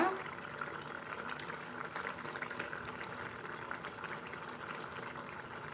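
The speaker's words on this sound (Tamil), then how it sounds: "நல்லா கொதிச்சு நம்மளுக்கு எண்ணெய் பிரிஞ்சு வந்துருச்சுங்க ஓரமெல்லாம்" Tamarind gravy with turkey berries simmering in a pan, oil separating at the edges: a steady close bubbling and soft popping with a faint hiss, continuous and moderately quiet throughout.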